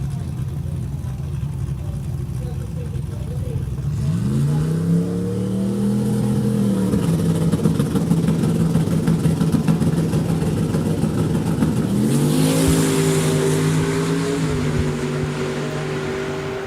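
Two Ford Mustangs, one a 1992 model and one red, launch at a drag strip, engines revving hard and climbing through rising gear pulls, then a second surge of acceleration, loud and steady with a distant crowd-like wash underneath.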